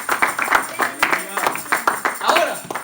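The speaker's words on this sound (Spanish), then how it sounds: "¿Cuánto damos un fuerte aplauso al Señor?" A church congregation claps during a sermon, with sharp, fairly regular hand claps that beat a steady rhythm close by and loud, alongside some vocal sounds.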